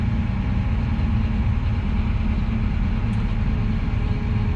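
A Fendt 1050 Vario tractor engine at about 1100 rpm while travelling near 44 km/h, a loud, steady low drone with constant rumble and no speech.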